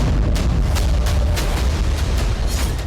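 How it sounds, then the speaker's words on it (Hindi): Continuous low rumbling with repeated muffled booms, like distant explosions or heavy blasts rolling one after another, from explosions at the Severomorsk naval base in the Russian Arctic. "ये धमाके पुतिन की न्यूक्लियर धमकी के बाद किए गए हैं।"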